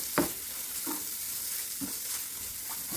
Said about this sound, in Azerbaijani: Çoğundurumuz burada qovrulur, biraz da qovurulsun.